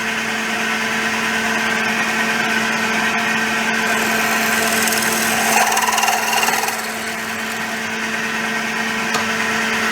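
Steady drone of a drill press boring a part with a new 13.5mm bit, the table wound up into the spindle; a continuous motor hum with a slight rise in cutting noise midway, close and alone.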